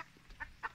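Two short, soft clucks come from a chicken at a small pig and poultry farm. They are faint and quick against a quiet background.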